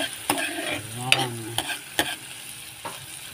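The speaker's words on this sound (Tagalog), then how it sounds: "Kailangan natin mabuti ang ating bawang at saka sibuyas guys hanggang sa magkulay brown para sa ating hipon na may tomato sauce" Garlic and onion sauté in a pan for shrimp in tomato sauce, giving a close, steady sizzle broken by sharp scraping stirs of a utensil against the pan.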